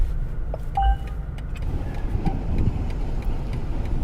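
A BMW 7 Series car reverses, its engine a low steady rumble inside the cabin, with a few short electronic chimes and faint clicks near the start.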